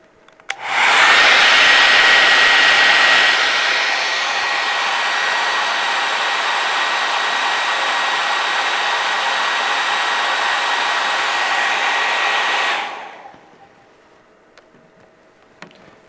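A hot air blower aimed at a thermocouple roars on loudly and steadily for about twelve seconds, then cuts off and fades to near silence with a few faint clicks.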